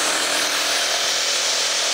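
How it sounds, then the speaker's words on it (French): Electric saw cutting through a standing Biofib Trio insulation panel, a steady loud broadband rasp that runs unbroken for the whole stretch. "Donc la scie électrique."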